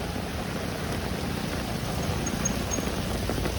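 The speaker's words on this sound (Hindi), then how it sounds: "ये होती है खतरनाक बारिश।" Steady heavy rainfall, a constant hissing wash with no voices, even in level throughout.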